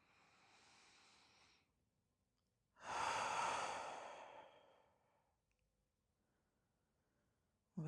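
Slow, deliberate breaths during a calming meditation session: a soft exhale, a pause, then a long, fuller exhale that fades gradually, followed by quiet; close and gentle with no talking.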